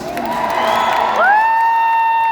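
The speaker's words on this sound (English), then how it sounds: "Knights coming about, and the crowd goes insane." A crowd at a knights' jousting match erupts in loud, sustained cheering and whooping, with one shrill rising whistle-like shout cutting through the roar midway.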